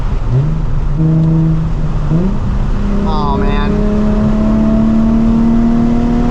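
A Nissan 350Z fitted with a Megan Racing exhaust revs loudly outdoors, its engine note climbing and holding in a steady drone while someone talks over it near the start.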